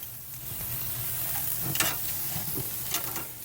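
Food sizzles and crackles on a 2017 Kamado Joe Big Joe ceramic grill running at about 700 degrees, a steady close hiss with a few sharper pops, no talk.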